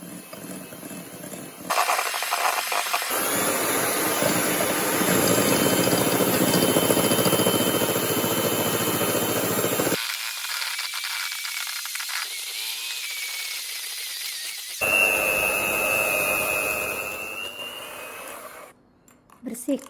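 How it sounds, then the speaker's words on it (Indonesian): A stand mixer beats choux pastry dough as eggs are worked in, a loud continuous whirring motor drone with brief pauses and restarts, close up. "Kita akan mengkocok adonan ini sampai dia halus dan mengkilap."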